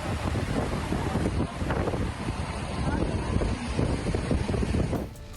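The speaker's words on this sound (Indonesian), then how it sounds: "Hujan deras disertai angin kencang melanda Kabupaten Maros, Sulawesi Selatan." Strong wind buffets the microphone with a continuous roaring rush, broadband and steady, with gusty surges throughout; heavy rain may be mixed into the noise, in Maros Regency, South Sulawesi.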